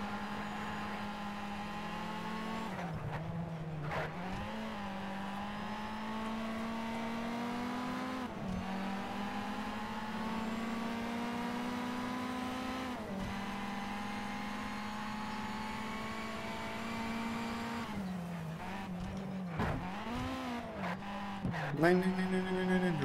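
Steady race car engine drone while driving at night in Need for Speed Shift 2 Unleashed, with the pitch climbing through gears and dropping on shifts, plus brief tire squeals toward the end; continuous and close, with no talking.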